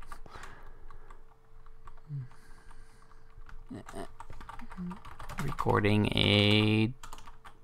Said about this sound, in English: I really can't type